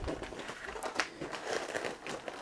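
A plastic bag crinkles and rustles continuously up close while a diamond painting kit is unpacked, with soft scattered crackles and a few sharper crinkles.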